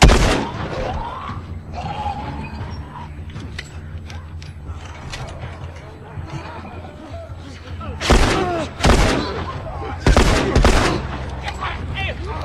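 Gunfire in The Last of Us video game: scattered mechanical clicks and thuds, then two loud clusters of sharp shots near the end, over background game sounds and brief voices.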